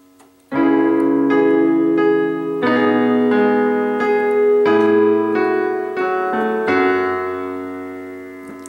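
Piano plays the opening of an Over the Garden Wall song, a slow series of sustained chords struck one after another, clear and close with no voice.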